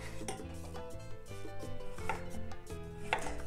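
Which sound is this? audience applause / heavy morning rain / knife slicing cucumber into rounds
knife slicing cucumber into rounds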